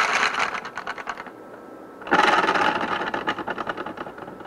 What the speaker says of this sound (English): if I spin it in the opposite direction, with the same amount of force